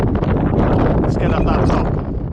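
Strong wind on the Mynydd Bedwellte hilltop buffets the microphone in a loud, continuous roar with gusty fluctuations, sounding exposed and close.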